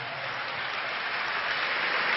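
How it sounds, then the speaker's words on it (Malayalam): College students at Phoenix College in Vailathur applaud together, producing a dense, steady wash of clapping that holds at an even level throughout without pauses. "ഓരോ അധ്യാപകരുടെ പേര് പറയുമ്പോൾ നിങ്ങൾ കൈയടിച്ച് ആവേശത്തോടെ കൈയടിച്ച് പ്രോത്സാഹിപ്പിക്കുന്നുണ്ടല്ലോ"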